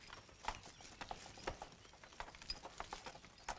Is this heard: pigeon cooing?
no